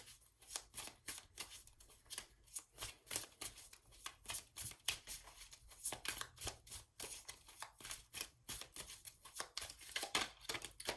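Tarot cards shuffled by hand in quick repeated riffles and flicks, a steady crisp papery flutter that runs on alone and fairly faint.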